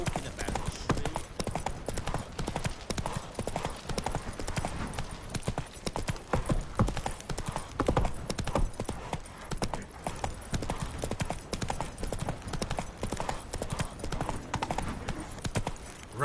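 Roach, a horse in The Witcher 3, gallops in a fast, continuous drumming of hoofbeats throughout, loud and close, with no other sounds over it.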